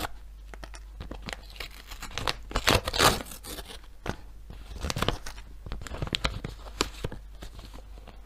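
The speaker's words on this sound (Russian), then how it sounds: "Вот такой вот у нас пакетик с сердечками. Давайте его откроем." A paper surprise packet printed with hearts being torn open up close, giving crinkling, tearing and crackling paper sounds in uneven bursts that grow louder near the middle, with no talking.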